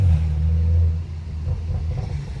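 A tuned 420 hp BMW 435i heard from inside the car while revving in third gear, a deep loud rumbling drone that eases slightly midway and then swells again with a throaty pulse.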